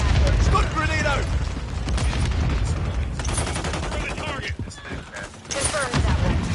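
Stun grenade and surrounding gunfire in Call of Duty MW3, a loud chaotic burst of explosions and shots that stays dense throughout, with in-game voices talking over it.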